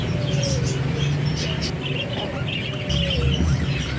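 Caged parakeets chirping, short thin calls repeating over a steady background hum, fairly close with faint talk underneath.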